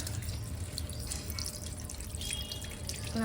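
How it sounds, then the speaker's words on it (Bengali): Fish pieces, including the head, being rinsed in water, a steady running-tap splash with light dripping that continues alone and close up for a few seconds. "মাছ ধুচ্ছে"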